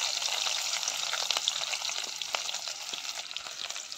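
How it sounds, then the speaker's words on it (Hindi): Onion and green chili fry in hot oil in a home kitchen, producing a dense, steady sizzle close by with faint stirring scrapes and no talking. "ये प्याज लाल होने तक इसको अच्छे से पकाएंगे तेल पे"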